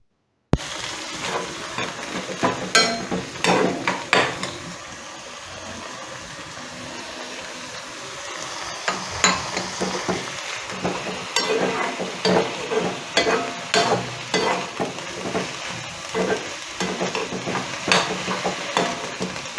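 Grated carrot being tossed and stirred in a hot pan for a Kerala mudhira carrot thoran, loud close sizzling with repeated rhythmic scraping strokes of a spoon against the pan, no one talking.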